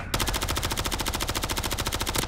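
A long, unbroken burst of automatic fire from an AMR-9 in a first-person shooter video game, its shots rattling off in a rapid, evenly spaced stream. The fire is loud and close, with no talk over it.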